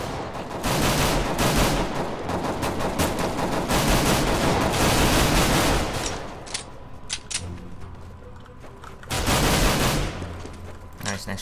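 Rapid bursts of automatic gunfire in CS:GO crackle almost nonstop, loud and close, pause briefly, then erupt again in another dense volley.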